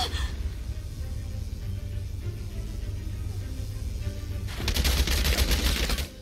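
Gunfire from the video game Valkyria Chronicles 4: a steady low rumble of battle noise gives way near the end to a loud, rapid burst of automatic shots lasting over a second.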